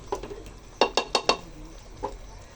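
A lid being set and fastened onto a pressure cooker on a gas stove gives a quick run of four sharp metallic clinks close by, with a softer knock before and after and no talking.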